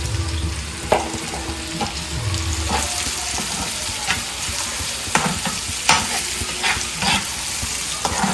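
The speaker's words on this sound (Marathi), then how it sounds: "तर मस्त अशी मसाल्यामध्ये मिक्स करूया।" Marinated shrimp stirred into frying masala in a pan, a steady close sizzle with repeated spoon scrapes and taps against the pan at an uneven pace, and no voices.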